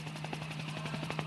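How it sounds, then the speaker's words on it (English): A helicopter filming the Tour Down Under 2011 bicycle race, its rotor giving a steady, rapid thudding chop with a constant engine whine throughout, moderately distant and unbroken. "The view from the helicopter"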